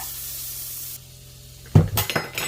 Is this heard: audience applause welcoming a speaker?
no